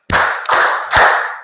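Students in a classroom clap exactly three times in unison on a teacher's command, three sharp, evenly spaced group claps, loud and close, each with a short ringing tail.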